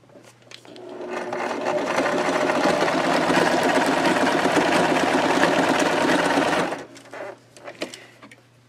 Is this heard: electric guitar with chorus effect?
no